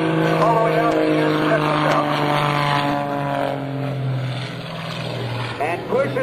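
A propeller-driven aerobatic airplane flies knife edge at a naval air station airshow, its loud continuous engine drone rising and falling steadily throughout, with an announcer talking over it.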